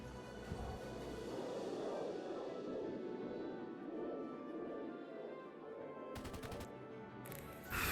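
Continuous rapid gunfire from a Skyward dogfight video game match, a dense, steady stream of shots filling the whole stretch with a brief sharper burst near the end.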